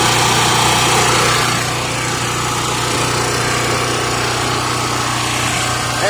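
Harbor Freight Predator 4000 watt portable generator running, a loud steady engine drone with a constant low hum and broadband roar, close by and unbroken throughout.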